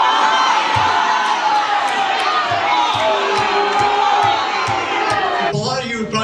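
A packed town hall crowd yells and shouts at a congressman, a loud continuous roar of many voices with rhythmic thumps beneath it.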